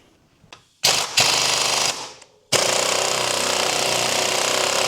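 An impact wrench removes a suspension bolt during a bushing swap on a vehicle's front end, firing two short loud bursts and then one sustained rattling hammer that runs to the end, with no talk.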